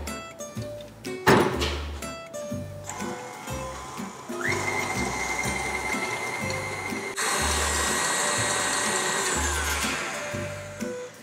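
Electric mixer whirring steadily as it whips two eggs with sugar for kue cubit batter, a loud continuous motor drone that shifts pitch and intensity partway through.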